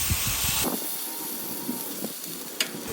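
Smash burger patties hiss on an outdoor Blackstone griddle, a steady broadband sizzle heard close up, with a sharp burst at the start as a patty is pressed and a brief scrape or tap near the end.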